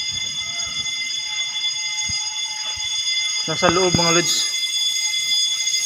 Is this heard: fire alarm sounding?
yes